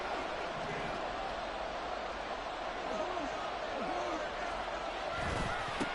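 A stadium crowd roars steadily at a football game, a broad continuous wash of cheering that holds loud throughout, with a brief surge near the end and a few voices standing out.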